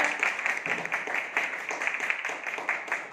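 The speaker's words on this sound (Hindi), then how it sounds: "एक बार जोरदार तालियों से उनका स्वागत करें" An audience applauds to welcome a speaker at an indoor gathering, with continuous moderate clapping throughout.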